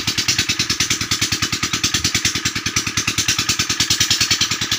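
A motorcycle engine with an open exhaust idles close by on a corn farm. It thumps and pops in a fast, steady rhythm that stays loud and even throughout, with no voices.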